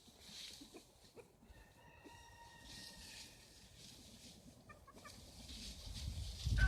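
Chickens, including a black rooster hen, clucking and calling in a yard, a few short repeated calls at moderate distance over low outdoor background, with rustling growing louder near the end.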